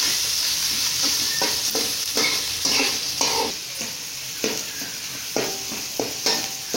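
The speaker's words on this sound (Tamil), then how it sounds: "வெங்காயம் நல்லா வணங்கட்டும்." Onions and curry leaves sautéing in a pan sizzle steadily under rhythmic, repeated stirring strokes that scrape about once a second, close and fairly loud, with no voices.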